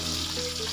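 Milkfish frying in hot oil gives a brief, dense, even sizzle heard up close, no talking.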